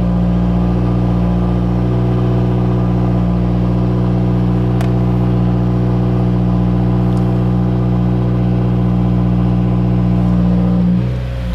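Subaru WRX STi engine idling steadily while it warms up, a loud, close, even rumble with a constant tone, a couple of faint clicks midway and a slight drop at the end, no talk.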